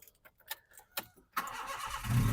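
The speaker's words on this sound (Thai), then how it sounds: "สตาร์ททีเดียวติดนะครับผม" A Honda City Type Z catches on the first try: a few ticks and short cranking clicks, then the engine fires and settles into a close, steady idle hum.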